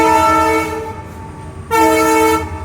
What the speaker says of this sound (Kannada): ರೋಡ್ ಗೇಟ್ ಹಾಕಿದ್ರು, ಯಾಕಂದ್ರೆ ರೈಲ್ವೆ ಪಾಸ್ ಆಗೋದಿತ್ತು